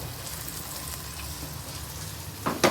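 Prawns fry briefly with spices in a pan for a Bengali cashew prawn curry, a low continuous sizzle ending in a couple of sharp utensil clatters.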